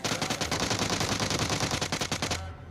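Rapid automatic gunfire in a video game, fired from a crouch: a dense, loud, unbroken burst of shots in fast even rhythm lasting over two seconds, then cutting off abruptly.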